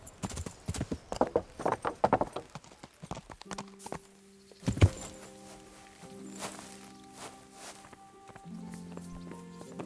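Rhythmic clip-clop of horse hooves in the video game Kingdom Come: Deliverance, brisk and close at first, then slowing and fading as steady tones and scattered thumps take over.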